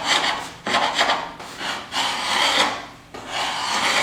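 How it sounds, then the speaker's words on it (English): A sharp chisel shaves dried excess glue off glued-up narrow wood boards, giving four close, rasping scraping strokes in a steady rhythm with short breaks between them and no voice. "And it's coming off reasonably well. The sharper your chisel, the better."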